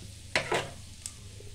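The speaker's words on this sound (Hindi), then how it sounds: "और सारे मसालों को मिक्स कर देते हैं, इसमें अच्छे से पका लेते हैं।" Onion and spices sizzle in a pan as they are stirred for a malai onion curry, with a few brief scraping strokes over a faint, steady frying hiss.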